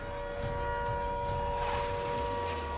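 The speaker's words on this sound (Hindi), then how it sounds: "हम आपके पीछे सायरन बजने की आवाज सुन रहे हैं।" A steady, droning air-raid siren tone holds without pause over low rumbling background noise, sounding some distance away, during cross-border firing.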